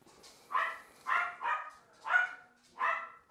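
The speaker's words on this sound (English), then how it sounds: "Sorry, that's my dog." A dog barks five times in a steady rhythm, each bark sharp and moderately loud, heard from a short distance in a quiet indoor room.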